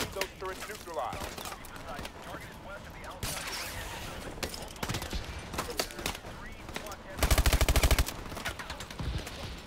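Suppressive fire in the Call of Duty Advanced Warfare campaign crackles as scattered gunshots and short automatic bursts, with one dense, loud volley near the end, all under radio-style voices talking.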